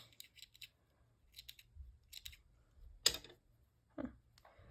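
Scissors snipping crochet yarn, a few sharp close clicks and cuts in short clusters, fairly quiet, with a louder single snip near the end and a brief voice.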